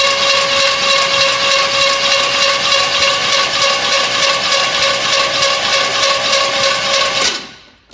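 A 1984 Chevy Blazer engine from a barn find being cranked by its starter motor, a loud, rapid, even rhythmic whirring that runs for about seven seconds and then cuts off, with no talk over it.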